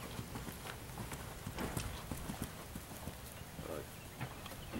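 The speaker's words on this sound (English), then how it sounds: "Now it's no longer picking up the canter." A horse cantering during a riding lesson, its hooves thudding in a steady, repeating clip-clop rhythm on soft footing at moderate distance, with faint background sound.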